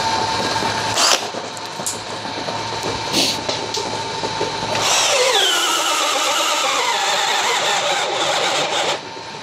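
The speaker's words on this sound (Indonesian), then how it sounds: "saya akan mengebor menggunakan auger 19 mm ya. Medianya kayu mahoni, ketebalannya 15 cm." Makita HP488D002 18V cordless drill driving a 19 mm auger bit into 15 cm thick mahogany, whining loudly with pulses of motor strain, then spinning up into a rising, sweeping pitch under load, close and sustained.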